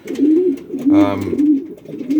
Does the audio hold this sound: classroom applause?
no